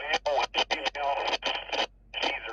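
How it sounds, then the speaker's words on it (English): Weak police radio transmissions break up into harsh, crackling static with garbled voice bursts, chopped by brief dropouts and gaps, faint and thin overall. "The static examples were recorded by Scappoose City Councilman Tyler Miller"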